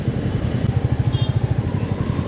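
A Royal Enfield Meteor motorcycle being ridden and turned through traffic, its engine giving a steady, close, low thumping beat with a wind-blown hiss on top.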